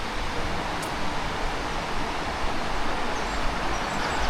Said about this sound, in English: Can I hear a river?